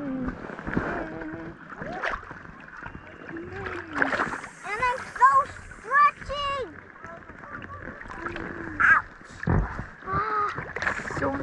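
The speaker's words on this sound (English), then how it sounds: "Paddling. Kayaking." A kayak is paddled on a lake, with soft rhythmic splashes and water movement under frequent chatter and exclamations from people on board.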